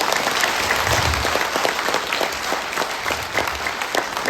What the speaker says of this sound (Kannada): ಎಲ್ಲರೂ ಒಂದ್ಸಲ ಅಡಿಗಾಜರು ಜೋರಾಗಿ ಚಪ್ಪಾಳೆ ತಟ್ಟಿ.